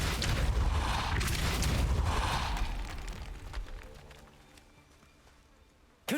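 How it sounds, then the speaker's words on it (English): A Depulso force spell cast in Hogwarts Legacy lands as a heavy rumbling burst with crackling debris that fades over several seconds, followed by a sudden sharp hit at the very end. "Depulso."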